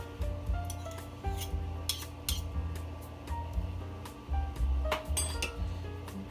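Green chile chicken casserole ingredients are stirred in a dish, giving a close run of clinks, scrapes and soft rubbing knocks from a spoon in uneven strokes, with no talking.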